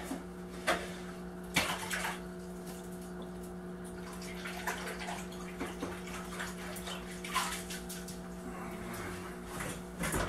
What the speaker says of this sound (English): I'm gonna dunk them in the water, be right back.